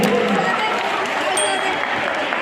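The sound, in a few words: applause from the audience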